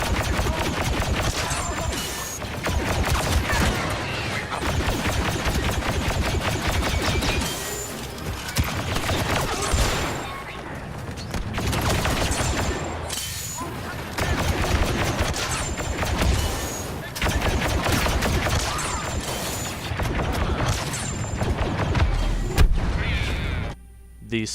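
Rapid blaster fire from the SE-44C pistol in Star Wars Battlefront 2 crackles in dense, sustained bursts over a loud battlefield din of booms and gunfire, with brief lulls between volleys.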